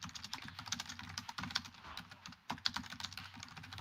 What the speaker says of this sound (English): Sounds like hacker typing.